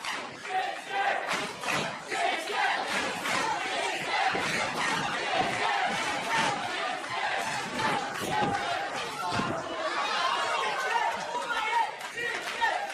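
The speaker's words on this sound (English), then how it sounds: "Very vocal crowd here inside the NXT arena." Wrestling arena crowd at an NXT TakeOver event at Full Sail University cheers and chants, a loud, rolling mass of voices with occasional thuds from the ring and bursts of shouting.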